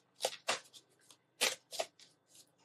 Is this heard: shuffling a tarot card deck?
yes